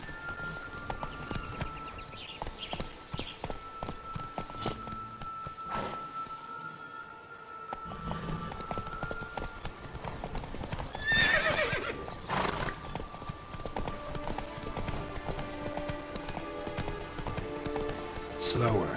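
Roach, the horse from The Witcher 3, neighs and whinnies in the game over steady clip-clopping hooves, with a voice talking over the gallop and a brief quieter lull partway through.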